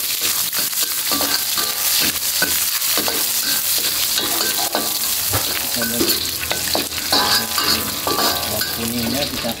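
Lemongrass, garlic and onion sizzle steadily in a hot pan, a continuous loud frying hiss broken by frequent stirring scrapes and clatters, with no talking.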